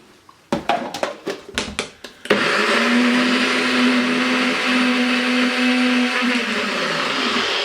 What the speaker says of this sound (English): We're going to mix this up in our blender.